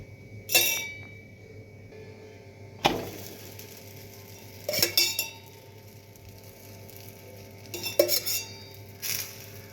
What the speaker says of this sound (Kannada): ಬರೀ ಬಡ ಬಡ ಚಪಾತಿ ಬೇಯಿಸ್ತೀನಿ